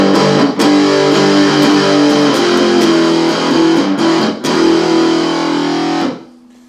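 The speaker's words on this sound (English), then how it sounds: "They sound best on electric guitar with gratuitous amounts of distortion." Heavily distorted electric guitar power chords played through a practice amp ring out loud and sustained, with sharp pick attacks and chord changes, before the sound is cut off and decays near the end.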